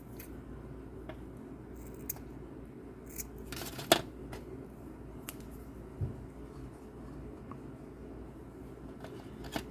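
Scissors cut through extra jute twine on a homemade decor sign with a single quiet, crisp snip, followed by a few faint handling ticks in a hushed room.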